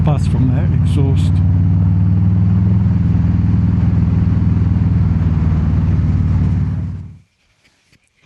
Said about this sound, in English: Still get a buzz from that exhaust.